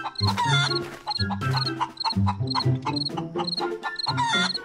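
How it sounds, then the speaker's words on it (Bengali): Cartoon chickens squawk and cluck noisily in a coop, dense overlapping calls in rapid bursts, loud and close with no speech. "মুরগিগুলো কেমন চেঁচামেচি করছে"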